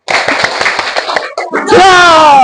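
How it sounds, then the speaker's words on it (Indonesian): Schoolchildren in a class do the 'tepuk donat' clapping chant together, a quick run of rhythmic claps and chanting voices, then a bright sustained shout and laughter at the end, loud and close. "kita kasih tepuk donat ya buat Altania"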